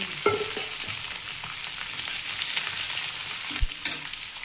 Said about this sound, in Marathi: आता तेल होतोय ह्याच्यामध्ये भाजायला